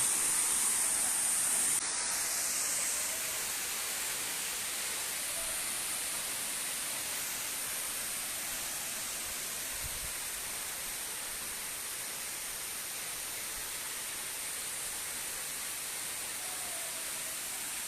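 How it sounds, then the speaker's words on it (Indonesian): A steady, broad rush of falling water, even and unbroken throughout, with no voices. "suara air terjun"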